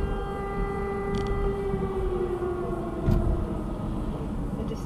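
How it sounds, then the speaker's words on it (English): A steady wailing air raid siren tone hangs over a low rumbling city background in Kyiv, Ukraine, continuous and distant, with no voices. "Sound of air raid sirens blaring out across the Ukrainian capital this morning."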